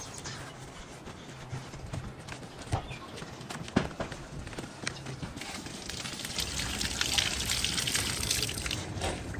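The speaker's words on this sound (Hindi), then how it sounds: "ये मैं धो के खाता हूँ उधर जाके, क्योंकि पानी उस साइड पर आ रहा है" Running water washes freshly cut mint leaves outdoors in a village vegetable garden in Chitral, a soft trickling and splashing that grows fuller and louder toward the end, with scattered knocks and clatter.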